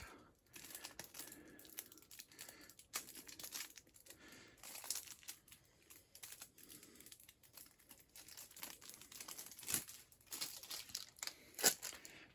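Plastic wrap crinkles and tears as Hegemony board game card packs are opened, faint rustling and crackling close by with a few sharper rips, unaccompanied by speech.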